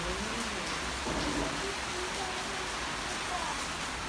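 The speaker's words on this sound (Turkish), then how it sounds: "Ne güzel yağıyor değil mi Duru?" A steady downpour of heavy rain hisses over a balcony in Zonguldak, a thick continuous wash of drops on nearby surfaces, with a faint voice murmuring briefly beneath the rain.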